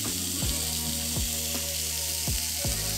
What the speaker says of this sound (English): we're listening for that sear